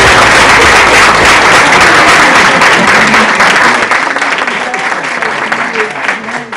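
Dense, loud applause from an audience at a chamber of commerce business milestone awards event in Ossining, sustained clapping that gradually thins toward the end.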